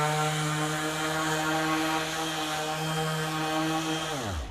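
A FLEX FX3411 24V brushless cordless 5-inch random orbital sander runs steadily at speed 3, giving a loud, even whine with a strong hum, then winds down sharply as it is switched off near the end.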